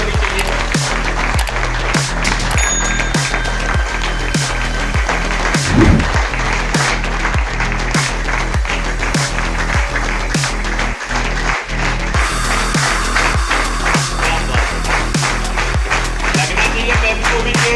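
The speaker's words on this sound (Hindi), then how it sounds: "तालियां बजती रही, तालियों में कोई कमी नहीं होनी चाहिए।" Sustained audience applause for a speaker fills a hall, dense and steady with sharp individual claps throughout, loud and close with no talk over it.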